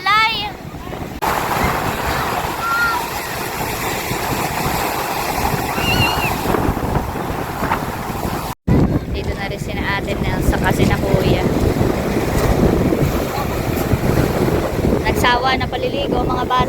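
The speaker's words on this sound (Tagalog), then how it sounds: "Dito lang po sila naliligo sa tabing dagat laang nalampasigan." Sea waves wash continuously onto a beach at Sulok Beach in General Nakar, Quezon, with heavy wind buffeting the microphone and people talking throughout.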